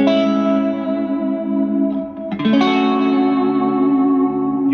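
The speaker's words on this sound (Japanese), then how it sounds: "スプリングリバーブがかかります" An electric guitar chord rings out with a lush, splashy spring reverb from a Strymon El Capistan, then a second strum blooms into the same wet, echoing tail.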